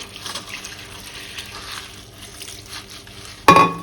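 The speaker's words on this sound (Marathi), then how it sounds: "असं एका चाळणीवरती सगळं पाणी निथळून घ्यायचं हे आपल्याला ओले नको आहेत पण ओलसर हवे याच्यावर स्वच्छ पाणी घालायचं" Clean water poured over sprouting horse gram sitting in a sieve: quiet rustling and trickling at first, then a sudden louder splashing gush near the end, with no voices.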